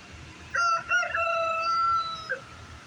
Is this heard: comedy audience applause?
no